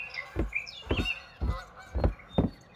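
Canada geese at a farm give a run of five honks at a steady, even rhythm, moderately close but soft, with faint background birdsong.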